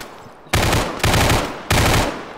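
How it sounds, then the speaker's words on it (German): Three loud bursts of rapid automatic suppressive gunfire in the Arma 3 video game, each sustained volley starting abruptly and fading slightly, close and dominant. "Ich geb Sperrfeuer."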